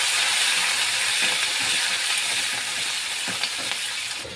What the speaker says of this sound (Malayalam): ഇനി അതിലേക്ക് കുറച്ച് കറിവേപ്പില ഇട്ട് കൊടുക്കാം.